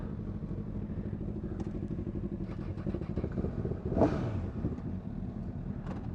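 Five motorcycles ridden together in pouring rain, a steady continuous engine drone with wind buffeting throughout and a brief louder surge partway through, no talking.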